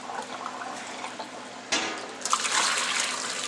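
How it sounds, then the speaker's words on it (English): Water running down sink drains, a soft trickle at first, then a louder, steady rushing gush that swells and continues to the end, close by. "Clean out those drains a little bit."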